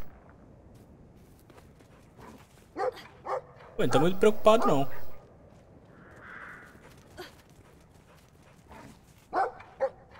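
A dog barks in the video game Brothers: A Tale of Two Sons, a burst of several loud, rapid barks mid-clip, with scattered short yips and someone talking around them.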